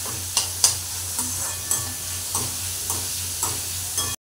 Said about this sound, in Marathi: आता चांगलं मिक्स करून घेऊया।